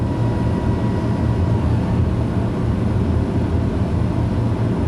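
Pilatus PC-12 turboprop climbing out heavily loaded just after takeoff in Microsoft Flight Simulator, a loud steady engine drone with a constant low rumble that runs unbroken throughout, with no voices over it.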